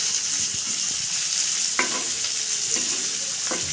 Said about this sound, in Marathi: आता आपल्याला मधोमध असं तिन्ही बाजूने आपल्याला छान भाजून घ्यायचे.